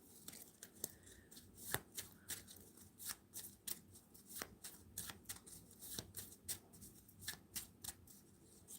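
A regular deck of cards is shuffled by hand, soft riffling snaps and crisp slaps repeating in quick, irregular bursts, faint and close with no talking.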